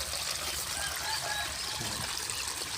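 Fresh tap water pours into a tadpole tank as the water is changed, a steady soft trickling and splashing stream running throughout at moderate loudness, with no talking.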